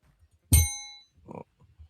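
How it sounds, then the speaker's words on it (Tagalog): A single bright bell strike rings out clearly and decays over about half a second, followed by a short muffled knock and faint low rustles. "Narinig niyo ba yung bell?"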